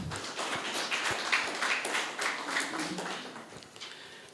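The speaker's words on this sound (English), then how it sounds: "Let's clap for him." Audience applause in a hall at a Ministry of Industry and Commerce programme, a steady patter of many hands clapping that gently fades.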